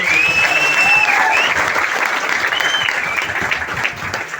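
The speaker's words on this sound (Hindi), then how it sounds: "उन सारे ईगल, टाइगर, टीसी से लेके सीटीसी और आईटीसी वाले सारे जिद्दी लोगों के लिए एक बार जोरदार ताली होनी चाहिए" A large audience at a marketing company gathering gives loud, sustained applause honouring Rajesh Yadav, with high whistles cutting through the clapping before it gradually eases.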